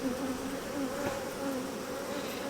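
Honey bees buzz around a beehive in a steady, close, continuous drone that holds an even pitch throughout, with no voices.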